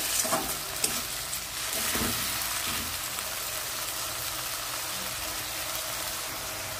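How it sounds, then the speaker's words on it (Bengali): Spice masala frying in a pan for a pomfret curry, a loud continuous hiss and sizzle with a few stirring scrapes near the start, steady and close throughout. "আর মশলাটা ভালো করে ভেজে নেব।"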